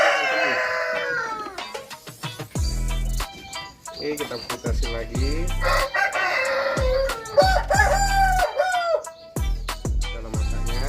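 A sick Bangkok rooster suffering from snot and snoring crows and clucks in repeated bursts close by, interleaved with low thumping knocks and occasional talk from a person.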